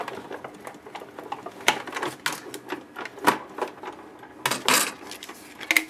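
Cuttlebug die-cutting machine cranking cardstock through between cutting plates with a die, giving a steady run of close, irregular clicks and ratchety knocks with a few louder thumps.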